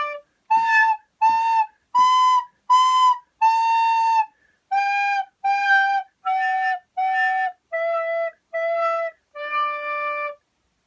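A recorder plays a simple tune of about a dozen separate breathy notes without tongue articulation, each note pushed with its own breath and separated by short gaps, close and clear with no one speaking.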